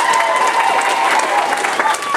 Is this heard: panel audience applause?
yes